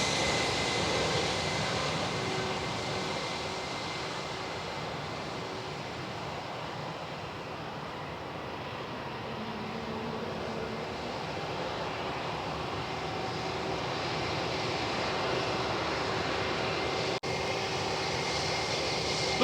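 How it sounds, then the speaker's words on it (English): A Vietjet Airbus A321neo airliner arriving at Perth Airport in the early morning, its engines giving a steady, loud broadband roar that swells gently and holds for the full stretch, with no voices. "we've got a Vietjet A321 Neo arriving from Ho Chi Minh City"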